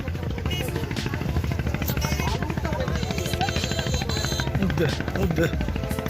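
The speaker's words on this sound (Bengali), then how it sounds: "ওই তো ভাই ট্রলার যাইতেছে গা" A river trawler's engine on the Someshwari river chugs in a fast, steady, loud thumping rhythm close by, under excited shouting voices.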